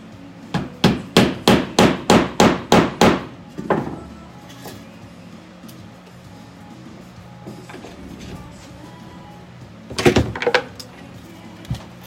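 A burst of about nine sharp, evenly spaced hammer blows on the floor while attaching a grommet for a mobile, then a couple more strikes, a pause with faint shuffling, and a final quick cluster of hammer hits.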